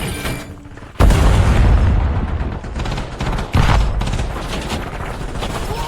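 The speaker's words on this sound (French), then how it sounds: "Attention, grenade frag." A frag grenade blast in the Call of Duty Black Ops 7 match on Nuketown: a loud, close boom at once, a second heavy detonation a few seconds later, and dense rattling gunfire between them.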